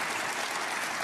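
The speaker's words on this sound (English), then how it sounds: "You can hear the applause in the background." Audience at a German Masters 2018 snooker match applauding, a brief dense patter of clapping held evenly for about a second, with no talk over it.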